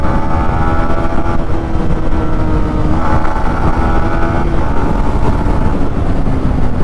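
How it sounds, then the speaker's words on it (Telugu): A 2024 Yamaha MT 15 V2.0 motorcycle engine pulling hard in fourth gear, a loud, close, continuous drone whose pitch climbs, dips with gear changes and climbs again. "4th గేర్లో మాత్రం ఇంజిన్ పుల్ అయితే చాలా బాగుంది"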